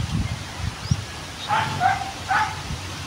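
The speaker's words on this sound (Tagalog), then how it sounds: "Ay, yung aso tumatahol, no." A dog barks outdoors, giving three short barks at a distance over steady background noise with faint rustling.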